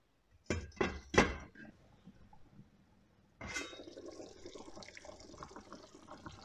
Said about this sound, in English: we're going to fill the pan with some boiling water